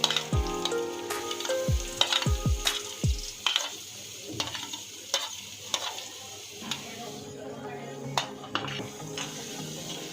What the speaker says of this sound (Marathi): त्याच तेलामध्ये आता मी कांदा टाकून चांगला फ्राय करून घेणार आहे